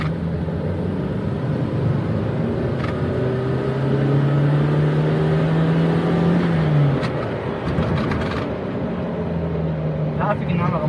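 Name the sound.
inline-four car accelerating in second gear, 5-speed manual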